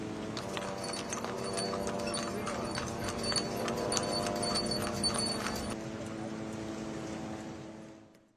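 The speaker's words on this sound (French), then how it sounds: "à l'aide de charrettes tirées par des ânes" Hooves of donkeys pulling carts clop in a steady rhythm on a street, with a constant background hum of activity, fading out at the end.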